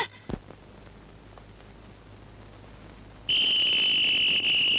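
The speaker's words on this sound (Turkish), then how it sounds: "Eyvah! Eyvah! Gene düdüklendi!" A loud, shrill whistle blast starts abruptly after a quiet stretch and holds steadily to the end, piercing and close.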